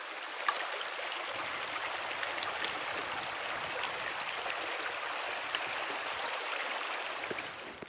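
A river on the Cape Wrath Trail rushes steadily nearby, its broad hissing, bubbling flow continuous and even, with no voices.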